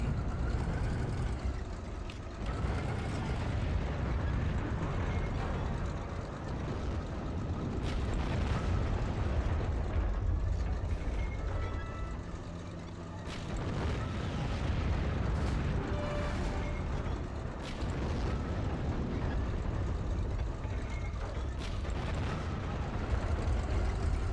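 An M18 Hellcat tank in the Heroes and Generals video game fires high-explosive shells, several heavy booming blasts standing out over a constant rumbling engine and battlefield din.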